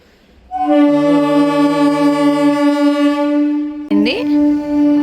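An arriving train sounds a long, loud, sustained horn blast with a steady tone, cut off and followed by a second short horn burst.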